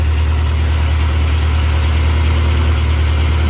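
A Chevy 454 Vortec 7.4L V8 idling steadily around 1,000 RPM, a loud, close, even low rumble with no change in speed and no voices.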